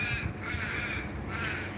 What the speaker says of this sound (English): That is the crows overhead